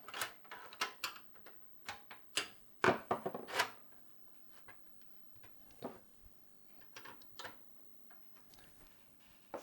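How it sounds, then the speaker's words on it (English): Thumb screws are tightened by hand on a Sahara SEA GOD H600 PC case, giving a run of sharp close ticks and small knocking clicks in uneven bursts, louder early and sparser later, with no speech. "Thumb screws always need a bit of extra tightening."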